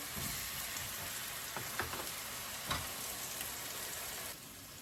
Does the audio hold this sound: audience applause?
no